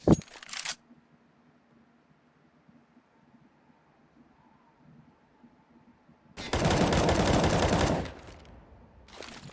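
Sharp bursts of M4 rifle fire crack out in a Counter-Strike match, a quick shot at the start and a sustained loud volley near the end, separated by a quiet stretch of faint background ambience.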